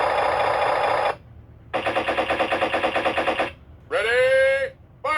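A toy machine gun from a Ninja Turtles action figure set plays its electronic sound effect: a loud buzzing rattle, a pause, a longer rapid pulsing burst, then a warbling siren-like tone, all close up.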